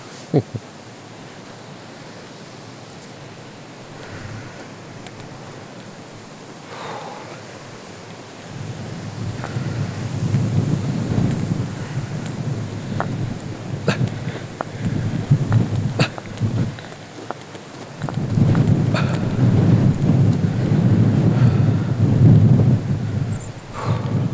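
Strong wind buffets and roars, gusting louder after a quiet start, with rumbling low blasts and a few sharp knocks.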